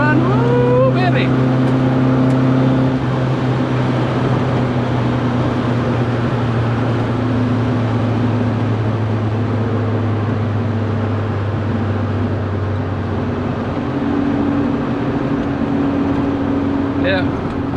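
A Volkswagen Beetle engine at full throttle on a top speed run, a loud sustained droning hum with steady engine tones, heard close from inside the car with no one speaking.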